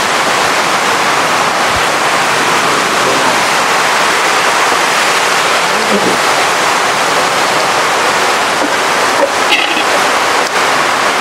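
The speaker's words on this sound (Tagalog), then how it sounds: "Lakas ng ulan" Heavy rain pours down outdoors during catfish breeding work on a farm, a loud, steady, dense roar of hiss that fills the whole scene, with faint incidental knocks underneath.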